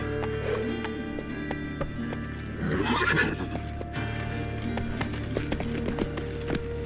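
Roach the horse from The Witcher 3 snorts and whinnies clearly, and a loud neigh swells in the middle over a soft clip-clop of hooves and a low game soundscape.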